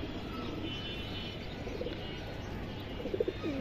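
A single female Beji pigeon coos in low, throaty murmurs against a steady background of other birds, with a few louder coos near the end.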